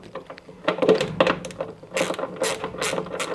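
An 8mm socket on a ratchet undoes a bolt on a Hotpoint/Indesit-type washing machine, giving bursts of quick close clicking with a few metallic knocks, and no one speaking.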